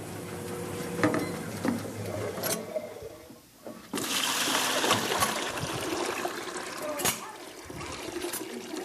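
An ice cream machine spins while being rinsed with water, making a sloshing, swirling rush. Splashes and clatters come at the start, and after a brief lull a louder, steady churning follows.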